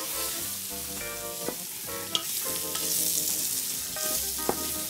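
Flour is stirred and toasted in a pot for a wild boar stew with figs, a continuous sizzle and frying crackle broken by soft scraping strokes of the spoon, close and alone without talk.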